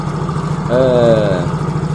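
A motorcycle with a battery-charging fault idles close by, then its engine is briefly revved on the throttle, rising for under a second before settling back to a steady idle.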